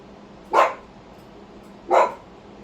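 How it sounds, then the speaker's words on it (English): A dog barks twice from behind a fence, two short separate barks about a second and a half apart, fairly close against a quiet background. "Excuse me, that's my dog."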